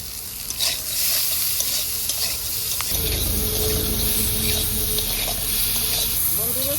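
Food fries with salt and turmeric in a pan for a Bengali home-cooked dish, a steady close sizzle with stirring scrapes that swells into a louder hiss partway through.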